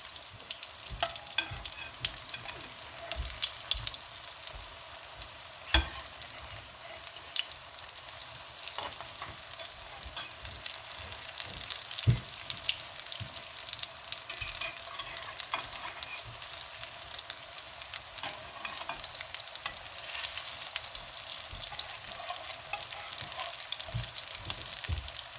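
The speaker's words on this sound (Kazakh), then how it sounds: "Қызғаннан кейін котлеттерімізді салып қуырамыз." Buckwheat cutlets crackle in hot oil with a dense continuous sizzle and occasional sharp clicks and taps from the pan.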